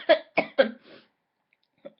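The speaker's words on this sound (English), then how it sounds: "I can't stop coughing for some strange reason." A woman coughs three times in quick succession near the microphone during a makeup routine, followed by a softer fourth cough and a brief throat sound after a pause.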